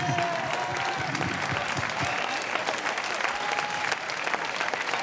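Concert audience applauding a musician at an open-air evening show in Piazza Manzoni, Jesolo, a steady dense wash of many hands clapping for the full stretch, with a faint sustained tone and a few voices mixed in.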